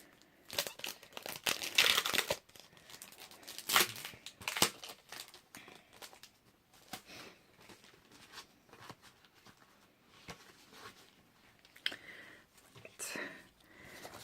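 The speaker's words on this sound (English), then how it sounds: "Let's just get them out of the packaging." Plastic packaging crinkles and tears as card kit sheets are pulled free, close-up bursts of crackling and rustling, loudest early on, with soft whispered talk between them.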